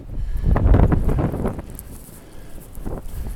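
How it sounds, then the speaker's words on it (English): Outdoor wind gusts buffet the microphone in low rumbling surges, strongest early, easing, then rising again near the end, with faint rustling and no voices. "The wind is really picking up."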